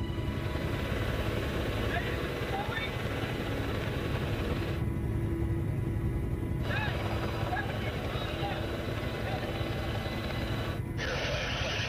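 A combat rescue helicopter carrying patients runs at full power, a continuous loud, dense rotor and engine roar that fills the whole stretch with no letup, under and around radio-style talk.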